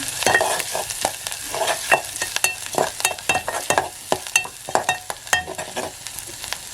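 Garlic and goda masala fry in a pan, a continuous close sizzle broken by quick, rhythmic scraping strokes of a spoon stirring the spices.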